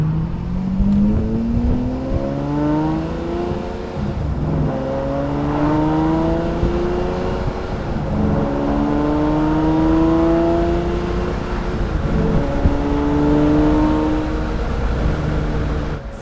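Lamborghini Murcielago Roadster engine revving hard and loud, with repeated rising harmonic sweeps as it climbs through gears, sustained and close throughout with no talking.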